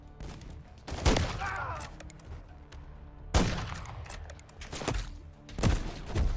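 Sniper and rifle gunfire in the Modern Warfare 3 campaign, heard as several sharp loud shots spaced a second or two apart over a low, rumbling battlefield background.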